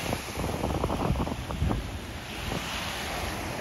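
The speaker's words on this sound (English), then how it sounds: "The waves almost got us" Ocean waves surging up a beach at high tide, with broadband wash and bursts of rolling surf close by, mixed with gusty wind buffeting the microphone.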